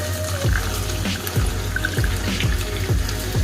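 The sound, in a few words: water poured into beef stroganoff pan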